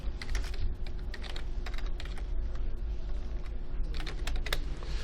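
Someone types on a computer keyboard while entering a validation rule in Microsoft Access, with quick bursts of clicking keystrokes, a brief lull, then another flurry, close and clear over a low hum.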